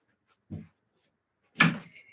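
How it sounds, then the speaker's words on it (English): A door is shut indoors in a quiet room: a soft thud, then about a second later a sharper, louder knock of the door closing that rings briefly. "Can I close that door?"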